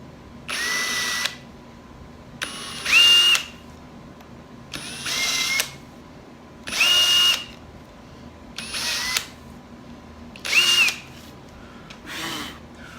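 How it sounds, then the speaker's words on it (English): A power drill with a 1/16 inch bit bores through a wooden guitar body in seven short bursts, each whine rising as the motor spins up, separated by quiet pauses. "take a drill, again with a 16th inch bit, and go around and finish drilling through"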